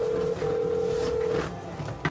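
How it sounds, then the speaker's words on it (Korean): A phone dials out with a long steady tone broken by one brief gap, followed by quieter room noise and a short click at the very end, with no voices. "우선 재현이에게 전화해봅시다."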